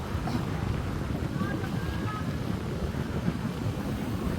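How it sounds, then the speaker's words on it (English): Steady, blustery wind at Jomtien Beach, Thailand, buffeting the microphone with low rumbling gusts, continuous and fairly loud throughout. "I'm sure that wind's blowing sand in people's faces"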